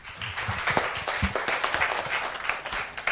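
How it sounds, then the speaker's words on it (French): Audience applause for a young reader at a departmental reading-competition final for children, a lively burst of many hands clapping with some crowd murmur mixed in. "On peut l'applaudir bien fort."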